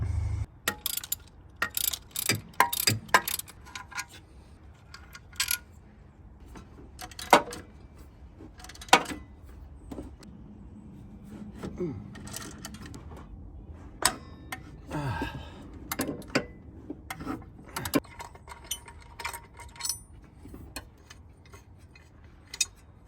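Bolts being removed from the alternator bracket of a Jeep XJ, with irregular metallic ratchet clicks and clinks, some sharp and close, scattered over a quiet background.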